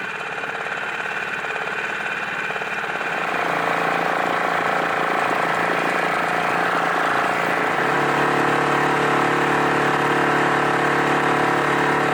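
An inflatable boat's small outboard motor runs steadily close by off the coast of Lismore, its drone rising in pitch and loudness partway through as it speeds up.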